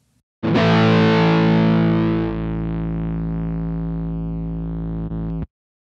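Guitar feedback from the Blue Cat AcouFiend plugin on its sub-harmonic setting, a loud sustained distorted drone that swells in, thins slightly midway, then cuts off abruptly, with no voices.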